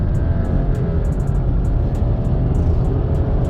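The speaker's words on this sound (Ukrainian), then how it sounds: "Стартує вона від нуля до сотні, достатньо непогано. Я вам зараз це продемонструю." A 2020 Subaru Outback Onyx Edition XT with a 2.4-litre turbo and automatic gearbox accelerates hard from a standstill to 100 km/h, a steady loud interior engine and road rumble building continuously throughout.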